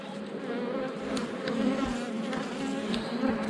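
Honeybees hum in a continuous, fairly faint buzz during a linden blossom harvest, with individual insects occasionally passing closer.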